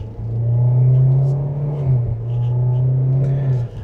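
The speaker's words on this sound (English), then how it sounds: "once you step on it, you can definitely hear that engine working" A 2027 Kia Seltos EX's 1.6-liter turbo engine pulls hard under acceleration, a steady loud drone heard from inside the cabin with a brief dip midway before it climbs again, with no talking over it.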